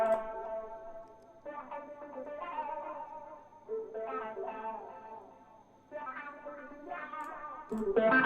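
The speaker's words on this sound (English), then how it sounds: "go into slapback echo, which is literally just a preset on Echo Boy" Guitars run through a slapback echo preset on the Echo Boy plugin, playing sustained chords in phrases with short repeats thickening each attack and gaps of quiet between the strummed passages.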